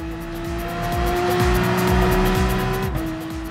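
A race car engine screams at full power in GT Sport on PS4, revving high and steady with rising, falling shift sweeps and rapid upshifts, loud and continuous with no voices.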